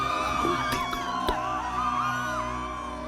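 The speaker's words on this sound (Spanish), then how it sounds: "un grito de aclamación y de alegría resonó en toda la multitud" A crowd roars with cheering, whoops and shouts of joy as an audio drama sound effect, a dense steady wall of many voices with a few sharp yells standing out, loud and close throughout.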